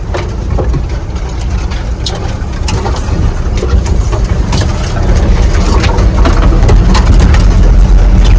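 A pickup truck engine runs loud and close, a steady heavy rumble with rattling bumps and no talking.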